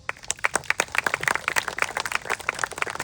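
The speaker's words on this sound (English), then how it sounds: "give yourself a round of applause" Outdoor crowd at a town bicentennial tree and time capsule dedication gives a round of applause, individual claps sharp and distinct in an uneven, lively patter from a modest group nearby.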